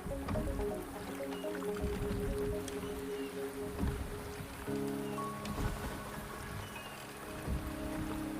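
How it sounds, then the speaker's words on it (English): Soft, steady rainfall with scattered drips and patters in the video game Wuthering Waves, a quiet continuous wash with faint tonal background hum and no talking. "The rain is subsiding"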